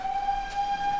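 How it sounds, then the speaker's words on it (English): A steam engine at a transportation museum gives a steady, sustained whistle-like tone for about a second, clear and moderately loud over a low background rumble. "Heard a steam engine."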